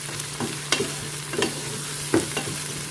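Ginger and garlic fry in a pan with a low steady sizzle while a spoon stirs and scrapes in a few distinct strokes, close up and without speech.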